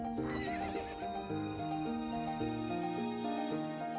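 A horse in the video game To the Moon whinnies near the start, set over a steady musical backdrop with faint rhythmic hoofbeats and no talking.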